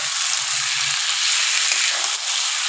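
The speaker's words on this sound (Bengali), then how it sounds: "দিয়ে খানিকক্ষণ আরও ভাজবো, কষাবো, কষিয়ে নেবো যতক্ষণ পর্যন্ত তেল না ছাড়ে।" Taro with dried fish fries in oil, a steady, loud, close sizzle that holds evenly throughout.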